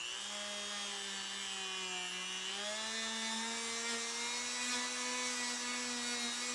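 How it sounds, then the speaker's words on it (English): A Dremel rotary tool spinning a polishing wheel with polishing compound against guitar frets gives a steady, loud high-pitched whine with a gradually rising pitch, continuous throughout with no talk. "So I have my Dremel ready right here."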